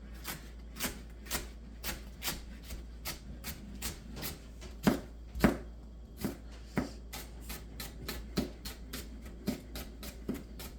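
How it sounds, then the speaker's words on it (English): Green onions being angle-cut with a knife on a board give a steady series of crisp, close taps about twice a second, with a few heavier chops mid-way and no voices. "Start with the green onion. Now you want to do like that, angle cut on those."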